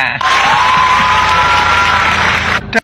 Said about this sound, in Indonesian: Tepuk tangan dulu dong buat KPK.